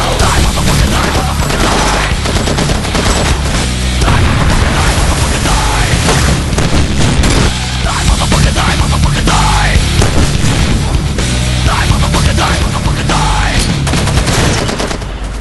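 Far Cry 2 combat: dense, loud bursts of gunfire and booming explosions crowd together in rapid, overlapping volleys throughout, with little pause between shots.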